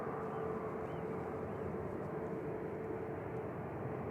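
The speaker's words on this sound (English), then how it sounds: "So that was a KLM going." A KLM airliner departs Manchester Airport, a steady broad jet roar held at a distance for several seconds with no speech over it.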